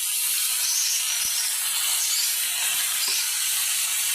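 Chopped pumpkin sizzles loudly in a hot pan with oil, a steady bright frying hiss with a couple of faint stirring knocks, cooked alongside stalks and shrimp.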